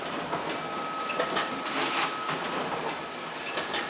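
A Duplo iSaddle automated saddle-stitching system's trimmer runs, a busy steady mechanical clatter with rhythmic knocks and faint higher ticks throughout, heard close in a print-finishing room.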